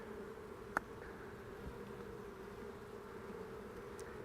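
A queenless honey bee hive gives off a low, steady buzzing drone, faint and even, with one brief click early on.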